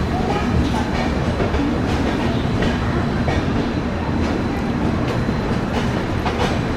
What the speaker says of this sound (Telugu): మనమైతే నాగ్పూర్ జంక్షన్ నుంచి అయితే బయలుదేరిపోయినాము